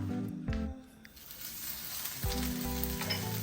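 Vegan sausage sizzles steadily in a skillet as it browns, a continuous moderate frying hiss under a low tonal hum, with no talking.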